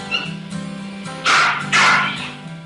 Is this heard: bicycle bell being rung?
no